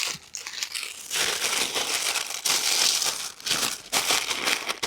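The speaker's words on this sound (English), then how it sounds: "Sorry for the crinkling and wrinkling." Tape and paper being crinkled and folded up close while assembling a craft piece, bursts of dry crackling and rustling that come and go in several clumps over a few seconds.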